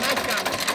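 An Escort 335 tractor engine, a 1991 model with its original engine, runs close by with a steady, pulsing mechanical chug through a brief stretch.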